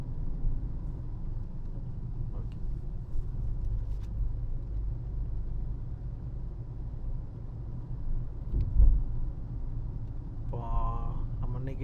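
A car engine hums as a low, steady rumble while a beginner drives through Chennai city traffic, with occasional faint road noise and brief clicks toward the end.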